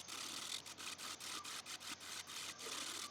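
Scraping and rasping from a tool cutting the ends of a segmented wooden birdfeeder on a lathe, in quick regular passes that pulse about every fifth of a second, close and continuous.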